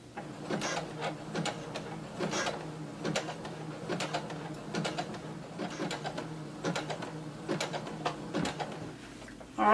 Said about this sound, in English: Sewing forward and then backstitching using a zigzag stitch.